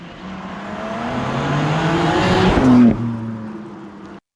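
A 2025 BMW M4 Competition coupe drives fast, its engine note climbing steadily through the revs to a loud peak, then dropping sharply as it eases off.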